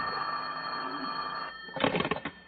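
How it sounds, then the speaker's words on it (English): An old-fashioned telephone bell rings on an old-time radio comedy, a steady ringing tone followed by a louder burst of clattering rings near the end, fairly close and alone without speech. "his phone rang"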